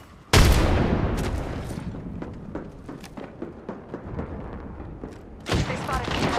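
Gunfire in the battle royale game Apex Legends during a Horizon round, with a loud burst at the start, scattered sharp shots and thuds through the middle, and another heavy burst near the end, mixed with game noise.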